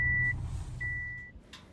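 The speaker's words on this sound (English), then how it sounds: "we don't have all of the seatbelts in right now, so it's beeping a bit" Two steady high-pitched electronic warning tones from a car's unfastened seatbelt alert, each lasting about a third to half a second with a pause between, over a low engine rumble inside the vehicle.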